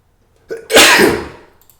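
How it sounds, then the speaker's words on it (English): A single loud, close sneeze with a short sharp inhale followed by a bursting exhale that tails off, otherwise quiet around it. "Had to get the sneeze out."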